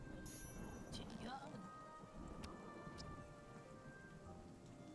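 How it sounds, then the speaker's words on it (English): Steady thunderstorm rain in the survival video game Craftopia, with a low rumble of thunder and scattered bright crackles, quiet and continuous throughout the whole stretch. "You're just in the middle of the water during like a thunderstorm."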